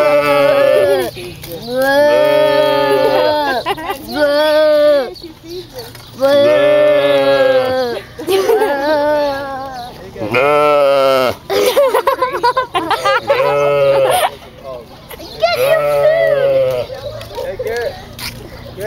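Sheep bleat repeatedly, with loud, close, wavering calls coming in a string of separate bursts over nearly twenty seconds with brief pauses between them.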